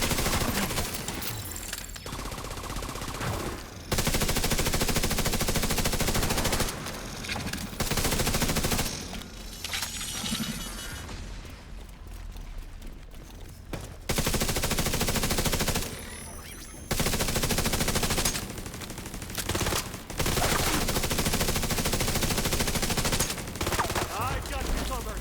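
Sustained bursts of automatic gunfire and rapid shots from The Division 2 video game rattle loudly in waves, with short lulls between volleys and no clear talk over them.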